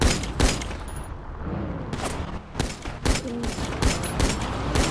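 Gunfire during a first day of military training, shots aimed at car tires: a string of loud, sharp bursts at close range, roughly eight reports in five seconds, some in quick pairs, over engine and road noise.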